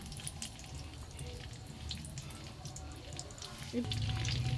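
Whole dried red chillies and bay leaves fry in oil with a steady soft sizzle, close and continuous, growing louder near the end as more hisses in the pan.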